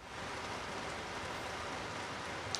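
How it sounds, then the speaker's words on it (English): Steady rain falls outdoors during stormy weather on the North Shore, a dense, even hiss of drops on surfaces that holds constant and alone, with one faint tap near the end. "lots of rain still out here on the North Shore"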